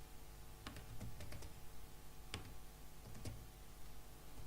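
Typing on a computer keyboard while writing HTML code, a few quick clusters of light key clicks separated by pauses, close and quiet over a faint hum.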